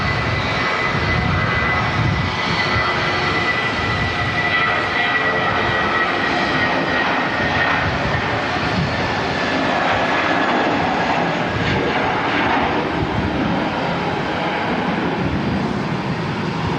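A fixed-wing airliner departs Auckland Airport, its engines producing a loud, continuous roar that holds steady throughout with broadband rumble and no voices.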